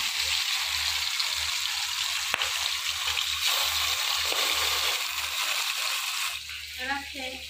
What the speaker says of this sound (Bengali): মাছগুলো লবণ হলুদে মাখায় নিছি, এবার ভেজে নিই